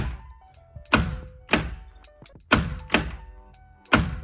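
A series of five or six sharp thunks of small dashboard compartment doors in a Nissan 350Z snapping shut, spaced unevenly, close and crisp with quiet clicks between.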